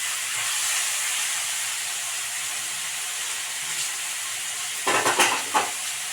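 A pan of Kerala-style prawn theeyal simmers with a steady hiss while salt is stirred in. Near the end comes a brief burst of scraping and clattering from the spoon against the pan.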